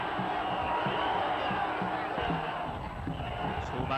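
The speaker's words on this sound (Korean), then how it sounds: "하늘과 땅의 공간을 한꺼번에 메울 듯한 함성" A massive crowd roars and shouts at the Gijisi tug-of-war festival in Dangjin, Korea, a dense, continuous wall of voices that fills the air for the whole stretch without letting up.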